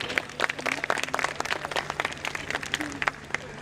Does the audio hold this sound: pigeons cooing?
no